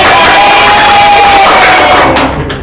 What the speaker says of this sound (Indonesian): Silakan beri tepuk tangan untuk kelompok B.